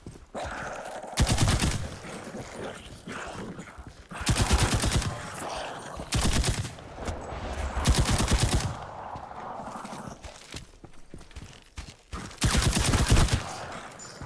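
Bursts of MP40 submachine gun fire from a video game, several rapid volleys separated by short pauses, loud and close with no talking.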